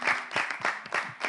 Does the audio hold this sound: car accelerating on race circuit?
no